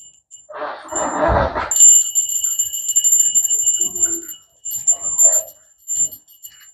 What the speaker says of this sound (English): Ring a bell for me, please.